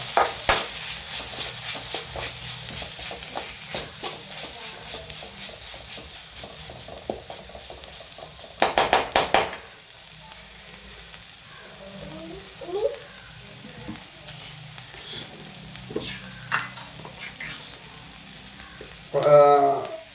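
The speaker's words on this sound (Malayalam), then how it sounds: "കുറച്ച് കറിവേപ്പില, ഇളകി കൊടുക്കണം, നല്ലപോലെ ഇളകി കൊടുക്കണം." Curry leaves frying in hot oil in a pan while being stirred, giving a low steady sizzle with scattered scraping clicks and a brief louder burst partway through; faint background noise throughout.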